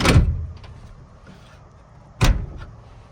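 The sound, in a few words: Eagle Summit / Mitsubishi Expo car door being closed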